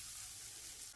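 Tarhoňa pasta toasting in butter in a pan gives a continuous soft, fizzing sizzle, steady and quiet throughout with no talk.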